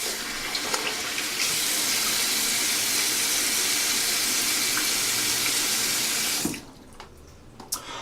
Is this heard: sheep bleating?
no